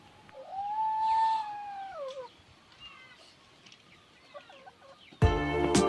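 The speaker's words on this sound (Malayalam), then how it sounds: "കോഴിയും പൂച്ചയും എല്ലാം ഉണ്ട് കേട്ടോ മീനിൻ്റെ വേസ്റ്റൊക്കെ തിന്നാനായിട്ട്." A cat and chickens gather near fish waste outdoors: a long drawn-out meow, then softer clucks and chirps over a quiet background, ending in a sudden loud harsh burst.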